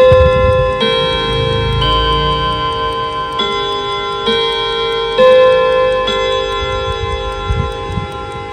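A Vedette five-gong mantel clock strikes the Westminster chime, a slow sequence of resonant ringing gong notes, each sustained and overlapping, with faint background noise beneath.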